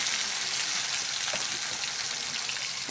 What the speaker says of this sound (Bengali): বাটাটা সুন্দর করে তেলে ভাজে নিব।